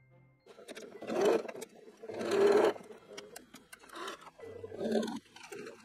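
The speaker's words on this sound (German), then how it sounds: "danach den Schulter- und Belegbereich ebenfalls absteppen" A sewing machine stitching shoulder and facing seams on a garment, running in several loud whirring bursts with short pauses between them, close up and without talk.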